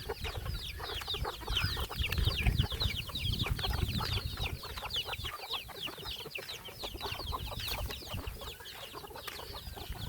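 Chickens cluck and squawk continuously around a farm where ducks are also kept, a dense overlapping chorus of many birds close by with no talking.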